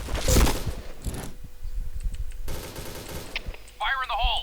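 Gunfire in the shooter game Point Blank: rapid bursts of close automatic shots, then single sharp reports and a mechanical rattle, ending with a brief whistling game effect.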